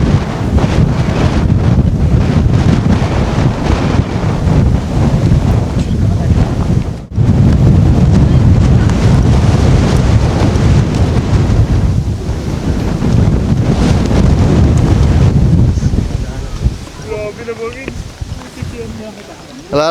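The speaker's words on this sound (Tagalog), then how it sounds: "Sobrang hangin dito ngayon, grabe." Strong mountain wind on Mount Batulao buffets the microphone in loud, continuous gusts, easing briefly near the middle and fading toward the end as faint sounds emerge.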